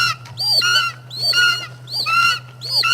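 Loud, repeated honking bird calls in a low-budget horror movie, four harsh goose-like bursts in a steady rhythm over a constant low hum, close and dominant with no talk.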